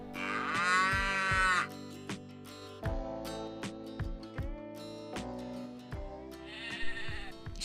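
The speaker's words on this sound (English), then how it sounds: "The cow gives us milk." A domestic cow moos once in a long, drawn-out call near the start, over steady music with a beat, and a shorter bleat-like call follows near the end.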